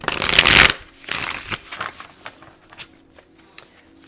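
A deck of tarot cards shuffled close up, a dense riffling burst followed by softer scattered card flicks and taps, with no talk.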